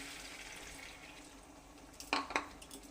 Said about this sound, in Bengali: জল দিয়ে এখন নাড়াচাড়া করছি